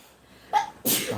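A strong human sneeze, a short sharp intake followed by a loud explosive burst, close and isolated.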